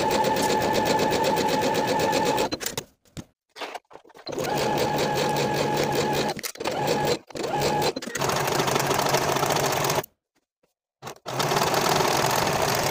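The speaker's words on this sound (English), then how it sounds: "Note that we're only stitching those two pieces together and not stitching through the front leg piece." A sewing machine stitches two pant pocket pieces together for Butterick 6865 comfy pants, running in steady bursts with a few short pauses between stitching runs.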